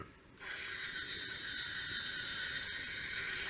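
A Doctor Who Master laser screwdriver toy plays its genetic recombiner effect, a sudden broad electronic hiss that switches on and holds steady and close for several seconds.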